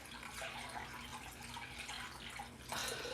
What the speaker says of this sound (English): Right now, I'm going to be pouring in my water.